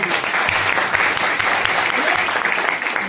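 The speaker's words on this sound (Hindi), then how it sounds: "चलो बहुत बड़ा ताली होनी चाहिए।" Loud, dense applause from a crowd, many hands clapping steadily throughout without a break.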